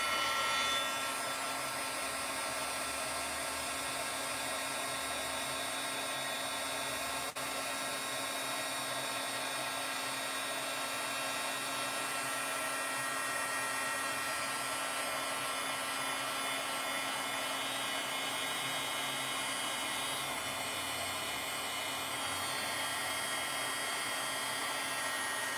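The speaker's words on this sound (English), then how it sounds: "now I'm going to grab my heat tool" A handheld heat tool blows steadily while drying and embossing a shimmering Christmas card, a constant close whooshing roar that holds unchanged throughout with no talking.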